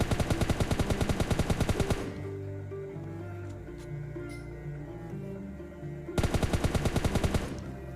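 Gunfire in the mobile battle-royale game PUBG Mobile Lite: loud bursts of rapid automatic fire, then a pause with quieter game ambience, then another sustained burst of shots.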